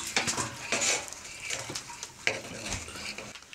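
Clarified butter and flour stirred together in a pan to make a roux, giving soft scraping and stirring with a few light metallic clinks of utensil against the pan, close and moderately quiet.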